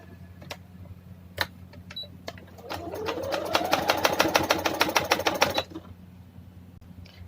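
While a front-slit kurta is stitched, a sewing machine gives a few isolated clicks, then runs in a fast, even rattle of needle strokes for about three seconds before stopping, close and moderately quiet.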